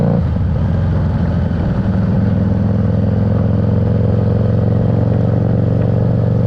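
A Harley Davidson Street Rod 750 motorcycle accelerates, its engine a loud, steady, close drone that climbs in the first couple of seconds and then holds a sustained roar.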